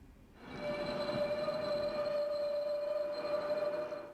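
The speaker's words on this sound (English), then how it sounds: "Why can't they sort out that braking audio?" Braking in the Train Sim Classic game on the Southampton to Bournemouth line: a passenger train slows with a steady, high metallic brake squeal over low rumbling running noise, holding for several seconds before fading.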